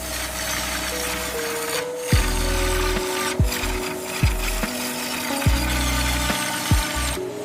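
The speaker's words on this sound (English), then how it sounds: "Controlled milling gradually brings the natural horn to the dimensions required for eyewear." Buffalo horn being milled for eyeglass frames, a loud steady machine drone broken by several sharp spindle changes and brief cutting bursts, with no voices.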